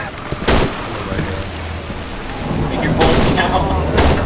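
Gunshots in the video game Cry of Fear, several sharp loud bangs spaced irregularly over a rumbling game background, with voices talking alongside.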